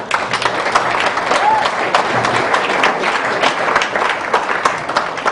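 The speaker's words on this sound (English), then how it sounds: "I can tell you want to applaud to sort of shake off the last half hour." An audience applauds at a public talk by an author on genetically modified foods, a loud, dense wash of clapping that fills the whole stretch without pause.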